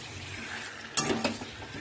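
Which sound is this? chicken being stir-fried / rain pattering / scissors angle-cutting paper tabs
chicken being stir-fried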